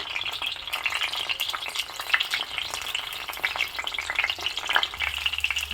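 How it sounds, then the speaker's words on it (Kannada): Eggplant pieces fry in oil in a pan, giving a dense, crackling sizzle with bursts of stirring and scraping throughout, close and continuous, with no talk. "ಇದನ್ನು ಹೀಗೆ ಎಣ್ಣೆಯಲ್ಲಿ ಒಂದೊಂದಾಗಿ ಹಾಕ್ತಾಯಿದ್ದೀನಿ"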